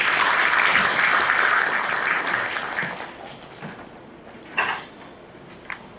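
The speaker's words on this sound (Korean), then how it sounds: "박수 부탁드립니다." Audience applause at an academic psychology lecture in a hall, a sustained burst of many hands clapping that fades out over a few seconds, followed by scattered small knocks and handling noises.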